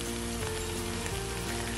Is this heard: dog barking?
no